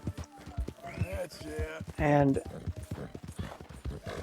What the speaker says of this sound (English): this is a riding horse